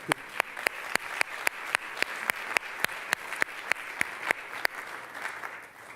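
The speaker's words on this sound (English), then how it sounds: "So maybe we can give Mark one more little round of applause." Audience applause for author Mark Whitaker at a talk, a sparse, rhythmic run of distinct claps, including one prominent nearby pair of hands over faint crowd clapping, fading slightly by the end.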